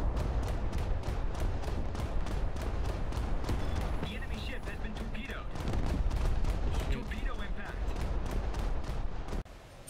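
A continuous barrage of naval gunfire salvos and booming blasts from the destroyer HMS Jervis in a game, dense and loud, ending in an abrupt final drop.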